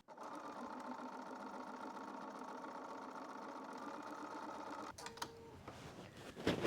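A domestic sewing machine, freshly cleaned and oiled, stitches a tuck on a blouse piece: a steady, close mechanical whir runs for about five seconds, then stops, followed by a short electronic beep and light handling clicks.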